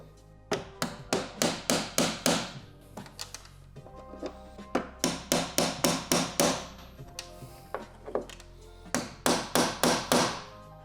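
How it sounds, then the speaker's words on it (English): A punch struck with a hammer knocks out factory rivets during a Polaris 2025+ front arm drop kit install: rapid runs of sharp metallic taps in several bursts, close and ringing. "we're gonna take this punch, remove the factory rivets"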